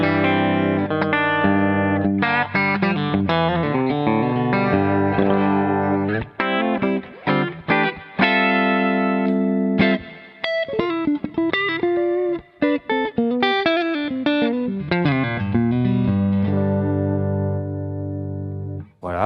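A Telecaster-style electric guitar plays through an AmS The One 50 amplifier with light reverb and a twangy, bright tone, in loud, continuous melodic lines and chords.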